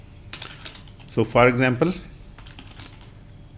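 Code being typed on a computer keyboard: quick, close key clatter in the first second and again after a short spoken phrase, continuing lightly to the end.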